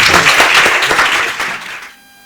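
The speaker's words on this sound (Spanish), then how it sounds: "Un fuerte aplauso para Jordi." Loud, close audience applause welcoming a speaker at a talk on near-death experiences, a thick burst of many hands that fades out and stops near the end.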